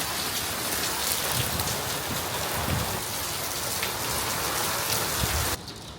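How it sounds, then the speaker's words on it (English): Dense, heavy rain mixed with hail pounding a surface outdoors, a continuous hiss with scattered sharper hits, suddenly dropping lower near the end. "It's raining it's raining so hard outside. I think it's ice."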